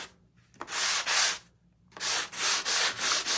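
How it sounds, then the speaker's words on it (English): Harsh, gritty rubbing strokes from a Dollar Tree sanding block on its roughest side, close and loud, come in two bursts of back-and-forth scraping separated by a short pause. "So this is just a Dollar Tree sanding block"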